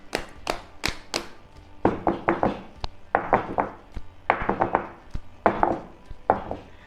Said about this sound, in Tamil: கேக் மாவை நம்ம கேக் செய்கிற பாத்திரத்துக்கு மாற்றினதுக்கப்புறமா இந்த மாதிரி டேப் பண்ணி விடணும்.